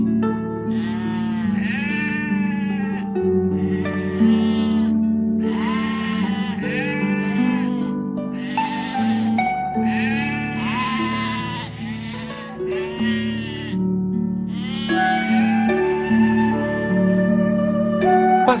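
Sheep bleat repeatedly in wavering, drawn-out calls that overlap one another, loud and close, against a soft sustained tonal background.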